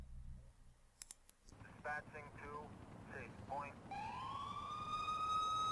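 A GTA V ambulance siren starts up after some brief clicks and a short burst of speech, then climbs in pitch in a loud, steady rising wail that continues to the end.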